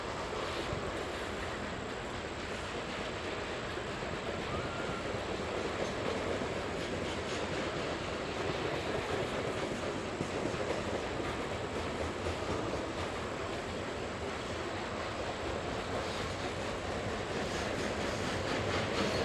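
A Norfolk Southern freight train with end-of-train DPU helper locomotives rolls past near Gallitzin tunnels, a steady broad rumble and rushing roar of wheels and cars that stays loud and unbroken throughout.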